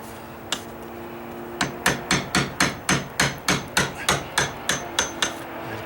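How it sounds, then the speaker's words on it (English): Hammer striking a chisel to chip a raised knot off wooden deck stairs, a quick run of about fourteen sharp, close taps after one lone initial strike. "I can just chisel the top off of any knot."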